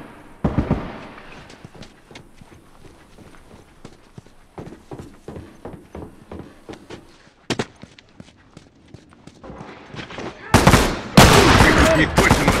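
Shotgun blasts in a Last of Us multiplayer match on the High School map: sharp, scattered gunfire cracks throughout, building to a dense, loud volley of shots near the end.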